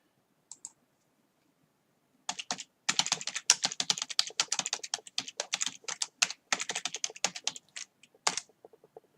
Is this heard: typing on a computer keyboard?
yes